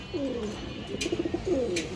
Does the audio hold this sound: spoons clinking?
no